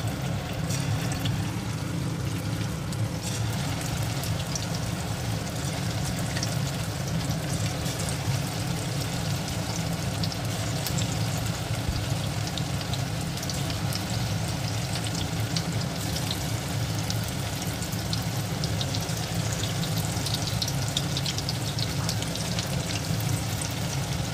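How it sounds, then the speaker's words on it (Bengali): Chicken pakora pieces fry in hot white oil with a constant, dense sizzle and crackle, loud and close with no talk. "এবার চিকেনের এক একটা পিস এইভাবে আমি ভেজে নেব।"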